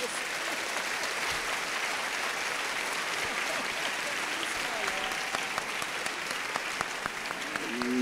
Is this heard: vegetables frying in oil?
no